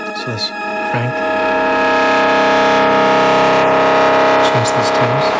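A Lyra-8-inspired OktaDie synth plugin with its distortion cranked roars as a dense, sustained buzzing drone full of gritty harmonics, swelling steadily with a few pulsing bursts at the start and end.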